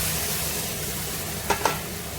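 Spices sautéing in a pan with a little water, a soft steady sizzle close by, broken by two quick scrapes of a spoon near the end.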